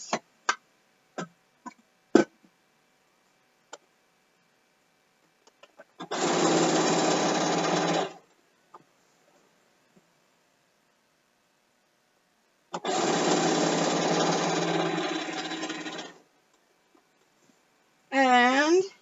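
A sewing machine runs in two sustained bursts of about two and three seconds while stitching binding onto a quilt, with scattered clicks and taps before and between the runs and a short burst at the very end.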